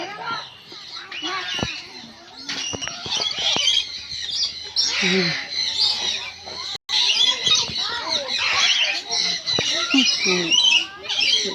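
Birds at a safari zoo squawk and chirp in a busy, overlapping chorus, with people chatting throughout at close range.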